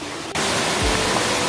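Mountain waterfall in a cold valley stream: quieter for the first moment, then a sudden loud, even roar of rushing water that holds steady to the end.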